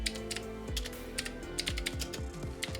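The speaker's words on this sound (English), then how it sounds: "We will once again type in delete" Fast typing on a computer keyboard while entering partition commands in Windows, a dense run of close, crisp key clicks with a few heavier strokes, no voice.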